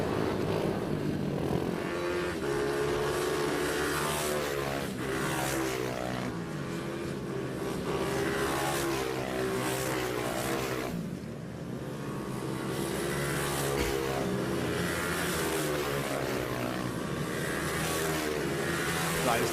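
Mini bike engines buzz steadily as racers ride two by two toward the grid at Ellough Park circuit in Suffolk during a British Mini Bikes Championship round, a continuous layered drone with shifting pitch.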